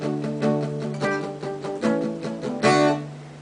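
Acoustic guitar strummed palm-muted in D, with short, damped chord hits in a steady rhythm and occasional accents, close and moderately loud with no talking.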